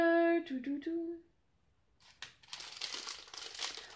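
Paper wrapping of a package of earrings crinkles and rustles up close as it is opened, after a brief tonal sound and a short pause, continuing in busy bursts.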